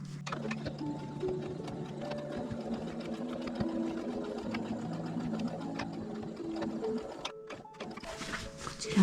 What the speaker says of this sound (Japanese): 四隅とも1センチずつ縫っていきます